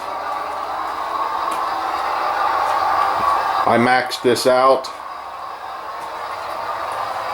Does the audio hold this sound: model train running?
yes